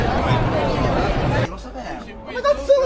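Crowd chatter fills a city street at night in Catania, Sicily: a dense babble of many nearby voices that drops suddenly to a quieter murmur with a few closer voices.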